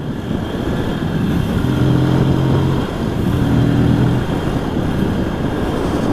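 A motorcycle engine runs steadily on a cold road, a sustained close drone with a slight rise and fall in pitch partway through, and no voices.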